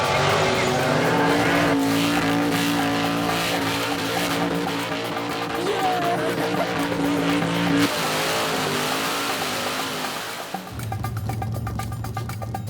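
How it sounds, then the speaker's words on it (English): A young driver's car revs hard and steadily during a burnout competition at Gippsland Motorplex, engine held high off the limiter with squealing tyres, loud and continuous, then it drops to a lower, even drone. "Nice constant revs. We're keeping it off the limiter too."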